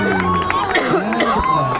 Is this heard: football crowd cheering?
yes